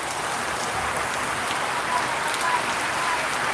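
Sudden heavy rain pours down in a dense, even roar of drops hitting surfaces, steady and loud for the whole stretch with no voices.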